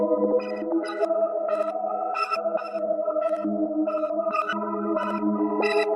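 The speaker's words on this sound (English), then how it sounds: "It's this synth from Plastic Serum Bank," A Serum synth patch, synth 11 from the Plastic Serum Bank, plays a busy plugg-style melodic pattern of sustained bright tones with steady rhythmic accents, close and loud with no talk.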